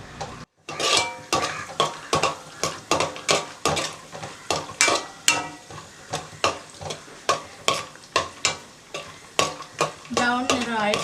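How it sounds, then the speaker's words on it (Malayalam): A spatula scrapes and stirs a pan of frying ingredients for semiya payasam. Around twenty quick, rhythmic strokes clink against the metal over a soft, steady sizzle, with no talking. "ഇതൊരു ബ്രൗൺ നിറം ആവുന്നത് വരെ വറുത്തെടുക്കാം."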